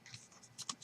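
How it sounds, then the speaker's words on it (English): A cutting machine's pen scratches across paper tag stock, a soft continuous scribble with a few brighter strokes near the end, quiet and close. "it will prompt you to put the pen in, so when you do that, it'll write it on there for you"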